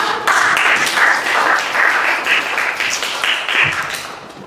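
Enthusiastic clapping from a small group at a student election podcast, loud and continuous for several seconds before tapering off near the end.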